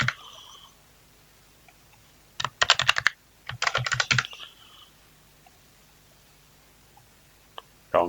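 A computer keyboard is typed on while filling in an online domain registration form. Two quick, close bursts of key clatter sit in an otherwise quiet room, with isolated clicks at the start and end.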